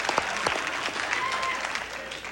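A studio audience applauds on the game show Card Sharks, a dense sustained burst of clapping with a few sharp claps near the start and voices blended faintly into it.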